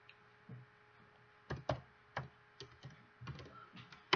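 Quiet, irregular clicking of keys on a computer keyboard as a short word is typed, with scattered soft taps and brief pauses between keystrokes.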